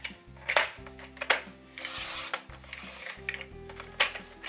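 Paper trimmer cutting cardstock for handmade card making, a few close scraping slices and a sustained hissing swipe over a low mechanical hum.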